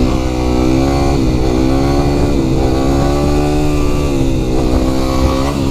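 A Yamaha WR250 dirt bike holds a loud, close, sustained rev in second gear during a wheelie, its engine pitch rising and wavering as the throttle is worked, with no talking.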